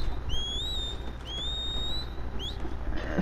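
Someone whistles in Red Dead Online: three clear rising whistle phrases over a low background ambience, fairly prominent and close, with no talking.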